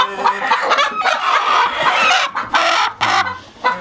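Dense, busy clucking from many hens in full nesting boxes at close range, continuous and overlapping throughout, with a few sharper calls standing out.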